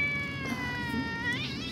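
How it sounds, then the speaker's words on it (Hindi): Pet cats cry and meow in drawn-out, wavering wails that rise and bend, close and fairly loud with no talking. "ये बिल्लियाँ ऐसे कभी नहीं रोती"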